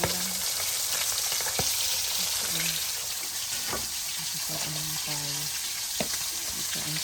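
Food sizzles and crackles in a hot pan, a constant loud frying hiss with occasional clinks, while someone talks faintly in the background.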